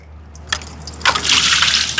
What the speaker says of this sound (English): You'll need to step back for a second while the water drips out